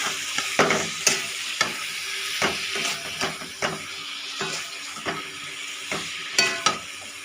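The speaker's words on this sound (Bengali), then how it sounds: "এবার আমি এটাকে নেড়ে নেব।" Food frying in a pan, salted, is stirred in a regular rhythm: sharp scrapes and taps of a spoon against the pan every half second or so over a soft, continuous sizzle, close and moderately loud.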